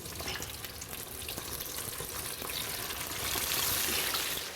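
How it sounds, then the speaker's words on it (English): Flour-coated fish frying in oil in an 18th-century-style kitchen, giving a steady, dense sizzle and crackle that swells slightly near the end, close and continuous, with no talking. "You want to fry them until they're golden, golden, golden brown."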